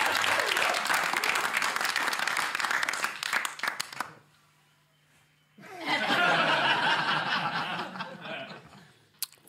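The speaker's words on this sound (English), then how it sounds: "That's some post-Easter applause right there." A studio audience applauding a stand-up comedian on a television comedy show, a loud dense burst that breaks off, then a second swell of clapping with laughter and chuckles that fades near the end.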